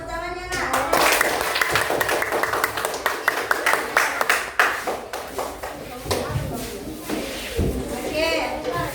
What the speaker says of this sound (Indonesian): Kasih tepuk tangannya nak.